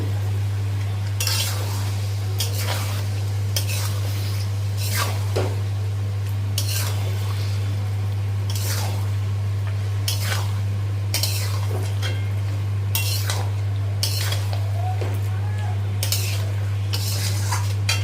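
Mutton with spices being stirred and sautéed in a pot, with repeated scraping and clinking of a spoon against metal over a soft sizzle, close and fairly loud, under a constant low hum.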